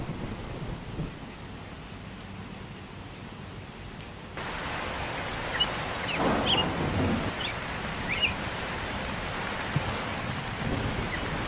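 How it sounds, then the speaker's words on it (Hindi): Heavy rain pours steadily, with a low thunder rumble partway through. "इतनी बारिश और ऐसी बिजली की कड़कड़ाहट मैंने तो कभी नहीं देखा।"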